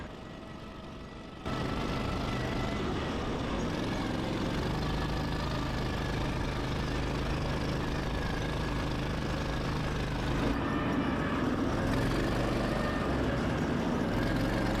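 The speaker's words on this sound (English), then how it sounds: "They were rear-wheel drive, fully enclosed roll cages, pushed along by 15 horsepower gas engines." A dune buggy's 15 horsepower gas engine drives off road in Las Vegas, a loud, constant close-up drone with rattling vibration that kicks in after a brief quieter start.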